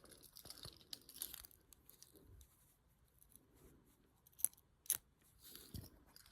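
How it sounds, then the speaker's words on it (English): Scissors snip off thread ends on a sewn fabric liner, a few quiet close clicks and rustles, with two crisp cuts standing out near the end. "And then you just cut those off with your scissors."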